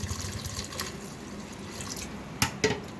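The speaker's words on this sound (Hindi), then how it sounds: "साथ ही इसमें चला जाएगा पानी तकरीबन 2 गिलास" About two glasses of water go into a pressure cooker along with salt and nigella seeds for a potato curry, a steady close splashing pour ending in a couple of sharp drips.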